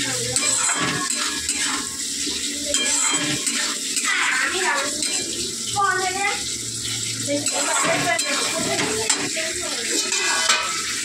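Spices sizzle and are stirred in a hot pan during bhuna-style sautéing for a home-cooked Bengali curry, with steady frying hiss, scraping ladle strokes and occasional clinks throughout.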